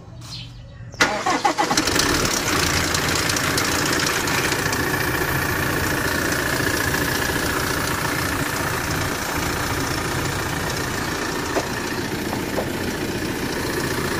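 A car engine with a misfire on cylinder 4 cranks and catches, then runs steadily and loudly for the rest of the span with a slightly uneven idle, close by and with no talk over it.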